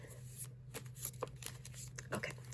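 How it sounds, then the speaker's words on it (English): Reflective tarot cards being shuffled by hand, giving a series of quick crisp riffling bursts and soft slaps, close and fairly quiet, with a low steady hum underneath. "Oh yeah, these shuffle great."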